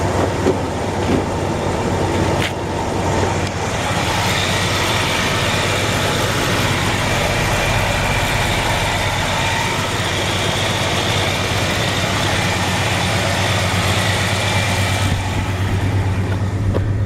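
A 1969 Chevrolet Chevelle convertible's engine idles steadily with a constant low hum and drone, near and unchanging, heard alone with a brief shift partway through and no talking.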